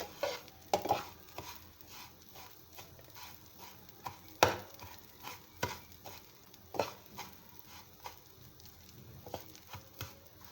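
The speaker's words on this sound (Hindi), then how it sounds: "इसमें हल्के हाथ से हम इसमें चम्मच चलाएंगे।" A spoon stirs food gently in a pot over low heat, making soft, irregular scrapes and light clinks against the metal, close and quiet, with a faint sizzle underneath and no talking.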